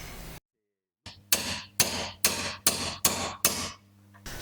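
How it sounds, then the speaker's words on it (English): Hammering on a Bosch D-Jetronic additional air slide from a Mercedes-Benz being disassembled, about seven evenly spaced sharp blows close by after a brief silence, each ringing out quickly. "Just keep on hammering."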